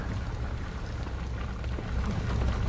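Steady rain pours through a damp, moss-covered mountain forest in a Washington state park, a dense, even hiss of drops that swells slightly louder toward the end, with no voices.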